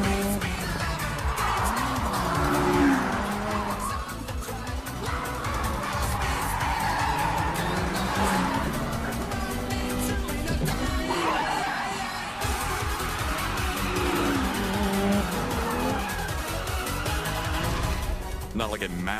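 Anime street-race scene from Initial D: a high-revving race car engine screams and rises and falls in pitch, with tire squeal mixed into the loud, continuous engine noise across the whole stretch.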